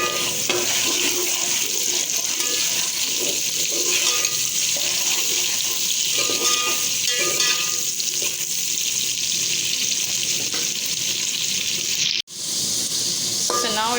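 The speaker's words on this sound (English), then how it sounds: "Firstly, we have to fry the potatoes." Potatoes frying in hot oil with a little salt, giving a loud, steady, dense sizzle that crackles throughout and cuts out briefly near the end.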